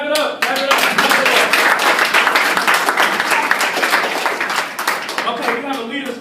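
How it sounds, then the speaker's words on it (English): Middle school students clap loudly at a school assembly, a close, dense burst of hand claps that carries on for several seconds while a voice calls out over it. "Clap it up! Clap it up!"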